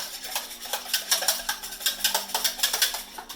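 Pancake batter of sugar, salt, eggs and milk being whisked in a bowl, a close rapid series of clinking, scraping strokes in an even rhythm, with no talking.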